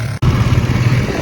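A small motorcycle engine revs loud and close at a construction site, a steady buzzing drone after a brief cutoff at the start.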